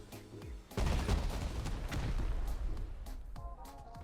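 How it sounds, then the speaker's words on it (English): Video game gunfire from a Bradley tank enemy armed with a machine gun and a large-caliber cannon, a sudden loud burst of rapid shots and booms sustained for a few seconds, with no speech. "a machine gun and a large caliber cannon. The cannon fires at close and from far away, while the machine gun only fires within the close proximity"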